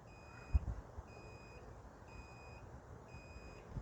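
Four evenly spaced electronic beeps from a Happyrun G70 Pro electric bike display, thin and high-pitched, repeating at a steady rhythm over quiet background noise with a couple of soft knocks.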